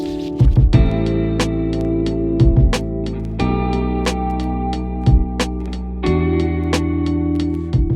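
A mellow lo-fi hip-hop beat with sustained piano chords over a steady kick-and-snare pattern, warm and continuous with no voices.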